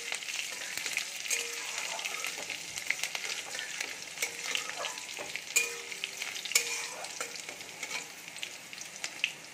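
Chopped green chilies fry in hot oil with a close, busy sizzle and crackle, steady throughout, with scattered sharper pops and spatters.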